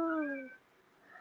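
A house cat gives a single close, drawn-out meow as it cries to be let in, gliding downward in pitch, followed by quiet room tone.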